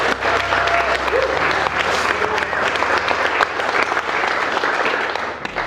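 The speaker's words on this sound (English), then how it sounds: "Round of applause." Wedding guests give sustained, dense applause at a reception, steady clapping from a full room that holds for several seconds, with a faint voice briefly underneath.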